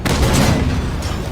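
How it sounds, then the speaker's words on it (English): Main cannon of a tank firing in the video game World of Tanks Blitz, a single loud booming blast at the start followed by a rumbling decay. "Firing main cannon."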